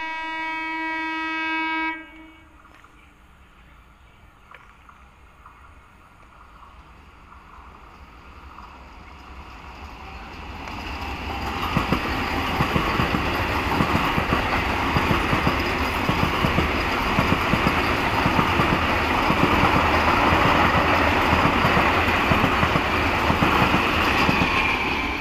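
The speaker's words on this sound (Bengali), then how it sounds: "সকালে একটা ভিডিও করেছিলাম এসি ট্রেনে" Bangaon–Sealdah AC local train: a brief horn-like tone at the start, then a quiet stretch before the running train builds into a loud, continuous rumble with rhythmic wheel-on-rail clatter.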